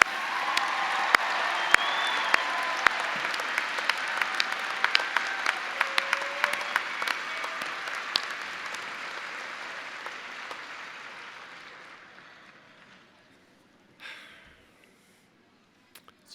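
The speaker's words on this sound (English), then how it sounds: "Let's give a round of applause to all of our graduates." A large audience applauds graduates at a Purdue Global graduation ceremony, sustained clapping with scattered sharp claps that gradually fades out over about twelve seconds, followed by a brief faint rustle and near silence.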